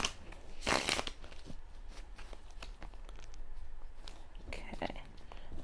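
Tarot cards being shuffled by hand, a few brisk riffling bursts with soft rustling and handling noises between them, close and quiet.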